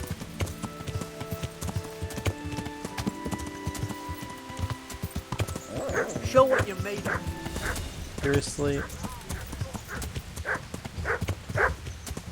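Horse hooves clip-clop steadily while riding in the medieval game Kingdom Come: Deliverance, with a dog barking nearby partway through and a voice talking over the hooves.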